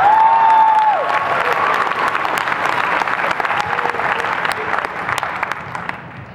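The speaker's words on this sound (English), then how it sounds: "You can clap now." Loud audience applause and cheering at a cast Q&A for Lost Girl, a full crowd clapping with whoops, a brief voice at the start, gradually tapering off over several seconds.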